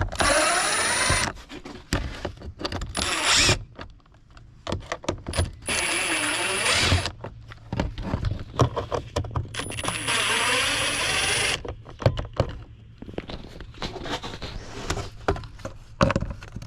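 A T25 socket loosening the air filter cover screws on a VW Atlas with the VR6 engine. Close bursts of whirring and ratcheting come in stretches, separated by short quiet gaps.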